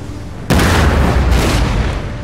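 Ship cannon fire in the naval battle game Empire: Total War: after a quiet lull, a sudden heavy boom erupts, then a rumbling volley of blasts rolls on loudly, with a second surge partway through.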